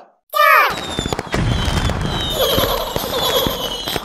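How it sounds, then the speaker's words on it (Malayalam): A whistling rocket shrieks, then a rapid string of firecracker bangs and fizzing bursts crackles on during Vishu celebrations in Kerala, loud and close, with excited voices underneath. "വർണ്ണപ്പകിട്ട് ബോംബ് പടക്കം"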